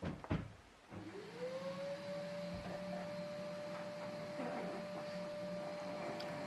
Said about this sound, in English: My boyfriend has decided to put the Hoover on.